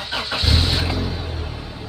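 A Toyota Revo engine cranks briefly and catches on the first try, then settles into a steady, close, low idle rumble.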